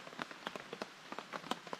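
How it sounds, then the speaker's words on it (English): Rain patters steadily on a Snugpak Stratosphere bivvy shelter at a wet solo camp, a close, soft pitter of drops, dense and irregular with no voices. "And as you can probably hear, it's raining again."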